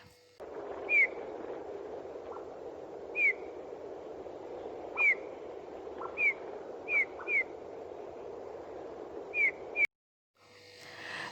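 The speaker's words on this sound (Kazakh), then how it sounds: "және снегирлар." Bullfinches call in snowy winter, a series of soft, short whistled notes repeated at irregular intervals over a low steady background, fairly faint, ending in a sudden cut.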